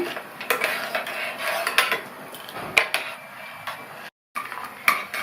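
A spoon scrapes and clinks against a metal pot in repeated stirring strokes while mixing payasam with coconut milk, close and clear, with a brief silent gap near the end.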